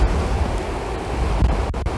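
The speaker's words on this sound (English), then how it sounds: "especially on a windy day like today." Wind gusts buffet the microphone on a breezy seaside outing to fish near a transporter bridge, a loud, continuous rumbling rush with faint surf beneath, no voices.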